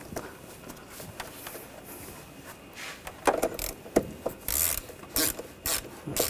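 A ratchet tightens a bolt while an intake manifold is installed on a 2004-2012 Chevrolet Colorado 3.7L L5, giving short rasping clicks and scraping bursts, close and fairly quiet, irregular and growing busier toward the end.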